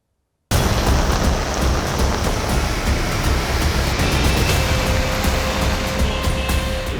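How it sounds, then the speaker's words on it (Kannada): Heavy monsoon rain pours down on the Karnataka coast around Mangaluru and Udupi, a loud, unbroken roaring hiss that starts abruptly and holds steady throughout with no voices. "ಕರಾವಳಿ ಜಿಲ್ಲೆಯಲ್ಲಿ ಬಿಟ್ಟು ಬಿಡದೆ ಮಳೆಯಾಗ್ತಾ ಇದ್ದು"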